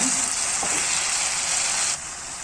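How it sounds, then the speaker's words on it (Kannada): Mushroom gravy frying in a pan with chilli and coriander powder, a steady loud sizzle that drops slightly in level near the end, with a brief faint clink early on. "ಚಿಲ್ಲಿ ಪೌಡ್ರ್ ಹಾಕೊಳ್ತಾ ಇದ್ದೀನಿ. ಧನಿಯಾ ಪೌಡ್ರ್ ಹಾಕೊಳ್ತಾ ಇದ್ದೀನಿ. ಚೆನ್ನಾಗಿ ಫ್ರೈ ಆಗಲಿದ್ದು."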